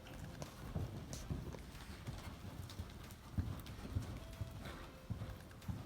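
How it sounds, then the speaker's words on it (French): A ridden horse trotting, its steady two-beat clip-clop of hooves continuous and fairly close, with no talking. "on repasse au trot gentiment"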